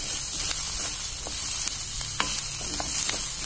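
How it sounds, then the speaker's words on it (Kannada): Green peas frying in oil with onion in a pan for Bombay rava uppittu, a steady close sizzle broken by scraping clicks of stirring throughout. "ಬಟಾಣಿ 1 ನಿಮಿಷ ಸರ ಫ್ರೈ ಮಾಡ್ತಾ ಇದೆ"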